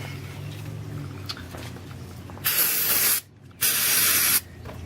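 Two loud bursts of brake cleaner aerosol spray hiss onto a Yamaha Warrior's engine area, the first about a second long, a short pause, then a second burst, close by.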